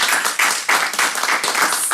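Applause at a university partnership celebration, with dense, continuous hand clapping from a gathered group that swells and dips over a couple of seconds, fairly close and without talk.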